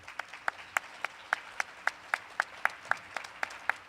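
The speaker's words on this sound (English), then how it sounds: "So can we just give another round of applause to Mike?" Steady rhythmic clapping at an EdSource symposium honoring Michael Kirst, sharp evenly spaced claps at moderate distance, alone and fairly quiet.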